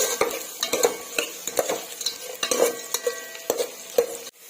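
Sliced large onion frying in ghee with spices, stirred by a metal spoon that clinks and scrapes against the pan in quick irregular strokes over a light sizzle, with no voices.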